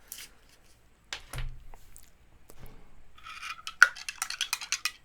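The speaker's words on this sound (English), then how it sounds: "you can see the spoon clank" A metal spoon clinks against a coffee cup while stirring strong coffee, a quick run of bright, ringing taps close by after some quieter handling noises.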